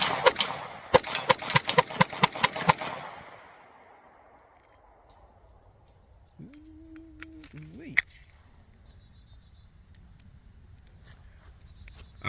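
A Taurus G2C pistol fires about a dozen quick, sharp gunshots in a rapid burst outdoors. The crack and echo fade into quiet, followed by a few faint clinks and handling noises.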